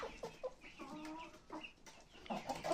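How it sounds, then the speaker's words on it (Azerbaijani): A farmyard hen clucks in short repeated bursts, close and fairly quiet, with other fowl calling softly around it. "Toyuğumuz da maşallah orada qəşəng səslər verir."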